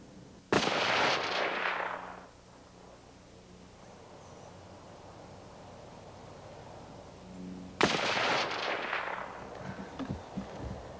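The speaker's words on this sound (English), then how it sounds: "fiery explosion." Propane tanks explode in an open field, two heavy booms several seconds apart, each a sharp blast that rolls off into a long, fading rumble, with quieter outdoor noise in between.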